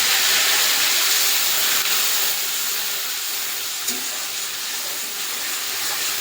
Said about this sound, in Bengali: আদা কাঁচা লঙ্কার পেস্টটা এবার দিয়ে দেবো।